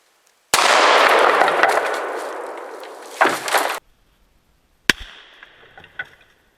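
A single very loud .460 S&W revolver shot with a 395-grain hardcast round fired into 2x10 wooden boards, an abrupt blast with a long roaring decay, followed by a rattling tail and a sharp later knock.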